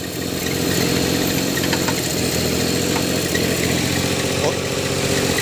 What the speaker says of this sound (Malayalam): വണ്ടി സ്റ്റാർട്ടാക്കിയിട്ട് ഒന്ന് ചൂടാവട്ടെ വെച്ചിട്ടാണ് വെയിറ്റ് ചെയ്യണത്